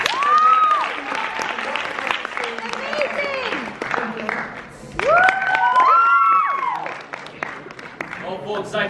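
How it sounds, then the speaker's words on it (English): An audience applauds a contestant at a costume pageant; steady clapping continues throughout while a voice talks over it. "we believe an extra round of applause should go to Miss Tombstone territory"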